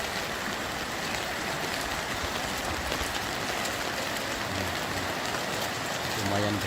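Heavy rain falls steadily during a flood in Lahat, a dense continuous rushing hiss without pause, with a faint low rumble appearing near the end.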